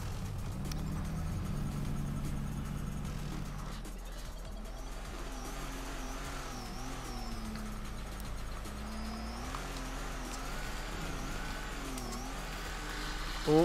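Engine of a drift car in the Torque Drift racing game rising and falling in pitch through a clutch kick during a tandem run, a steady loud drone with repeated revving sweeps and no talk.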